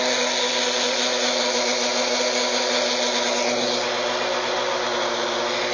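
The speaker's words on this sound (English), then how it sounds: "we'll just run this coffee grinder" An electric coffee grinder, powered by a BLUETTI Elite 10 portable power station drawing about 201 watts, whirs loudly and steadily, a dense continuous motor roar with no pauses, heard up close.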